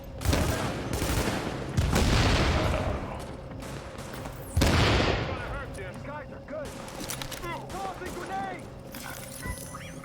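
A firefight in The Division, with heavy bursts of automatic gunfire and loud booms in waves, later thinning into scattered shots under voices calling out.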